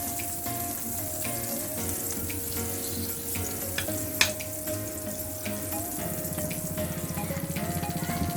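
Salted egg yolk cooks in a pan with a steady sizzling hiss over a faint running hum, punctuated by a few spatula scrapes and one sharp knock partway through.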